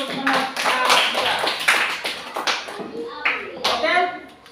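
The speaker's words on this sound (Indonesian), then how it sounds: "Kita berikan tepuk tangan untuk teman kita" Children in a classroom clapping for a classmate, scattered bursts of hand claps mixed with loud kids' voices and chatter close by.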